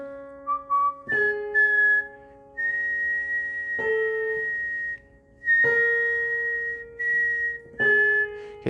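A person whistles single clear notes of a major scale one after another, starting on the tonic and moving to the fifth degree. The sustained pitched tones have short gaps between them and are heard alone with no talk.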